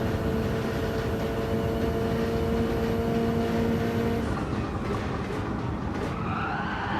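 A race car in Gran Turismo 7 slides across a wet track with a sustained, loud broadband roar and engine drone that shifts into a rising whine near the end, no talking.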